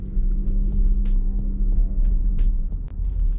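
A car with an automatic transmission driven in automatic mode, its engine holding a loud, steady low drone close up as it revs toward about 2,000 rpm, with faint clicks and ticks over the hum.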